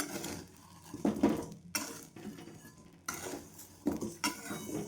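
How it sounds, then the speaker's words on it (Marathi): Amla (Indian gooseberries) roasting in hot salt in a pan on medium heat produce repeated rattling, scraping clatter in bursts as they are stirred, with the salt grains hissing between strokes. "तर आपलं मीठ गरम झालेलं आहे मी आवळ याच्यामध्ये टाकून घेते एक पाव आवळे आहे ते छान भाजून घेते मी"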